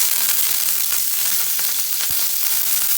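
Curry leaves sizzle in hot oil with asafoetida for a mixed vegetable sambar, a loud, steady, close crackling hiss with occasional sharper pops throughout.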